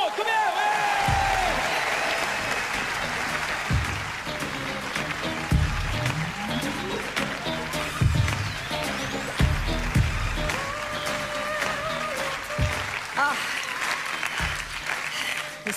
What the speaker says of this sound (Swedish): Ge en stor applåd.